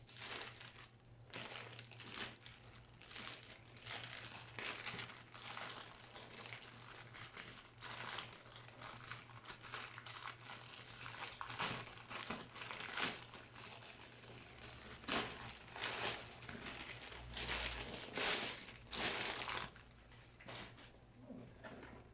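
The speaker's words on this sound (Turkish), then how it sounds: "O kargolarımı birlikte açmak istiyorum." Cargo packages being unboxed give off a steady run of crinkling, rustling plastic and paper packaging, close and continuous with frequent handling bursts and no talk.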